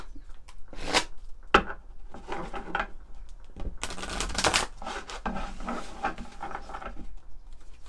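Oracle cards being shuffled by hand, several bursts of crisp riffling and flicking with short pauses between, close and fairly loud, no talking.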